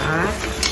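Brief metallic clinking of a small frying pan and lid being handled, close up, with light scraping.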